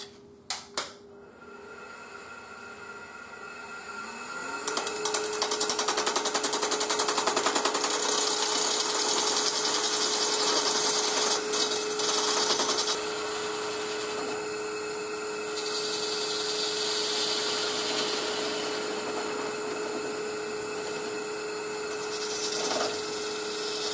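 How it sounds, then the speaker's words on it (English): A steady, loud whine of a wood lathe with a high scraping cut from a parting tool into wood, running continuously with slight shifts in pitch and intensity. "So I'm going to use a parting tool."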